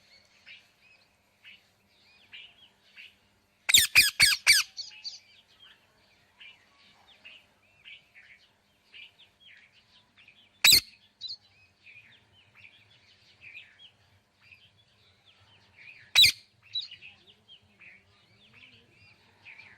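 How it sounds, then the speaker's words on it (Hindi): Sharp, harsh parrot squawks burst out in a rapid cluster, then two more single squawks later, amid quiet scattered chirping in the background. "अब मैं आपको सुनाना चाहती हूँ तोता बोलता कैसे है।"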